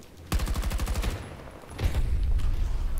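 Loud explosion in the Battlefield 2042 shooter during a tank fight with mines, a rapid crackling burst of blasts followed by a second heavy rumbling boom that lingers into sustained roar.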